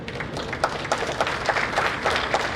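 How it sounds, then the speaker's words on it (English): Brief applause from participants at a plenary business conference session, a moderate patter of many hands clapping at a steady pace in a room, with no speech. "Please give yourselves a big round of applause"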